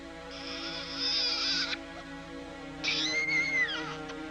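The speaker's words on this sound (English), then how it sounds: "A baby's cry." Thin, high-pitched wailing cries rise and fall in two long bursts with a short gap between, over a low steady background hum.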